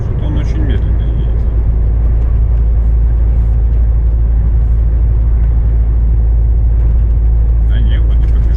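A car drives slowly uphill, giving a constant heavy low rumble from inside the cabin, with a person talking over it.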